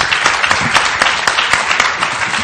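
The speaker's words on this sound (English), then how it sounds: "A round of applause." Audience applause after a talk on digital media and entertainment, a dense steady patter of many hands clapping at moderate loudness throughout, with no clear voices over it.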